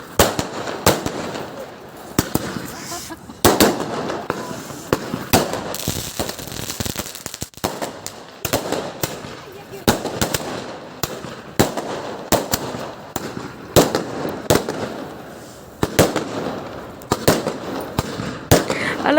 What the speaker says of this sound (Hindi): और ये देखो पटाखे बजा रहे हैं